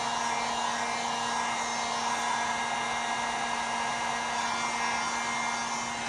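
A hair dryer blows steadily on water-based stain brushed onto a wooden piece for Christmas home decor, a close, constant whooshing roar with a faint steady hum that runs unbroken throughout.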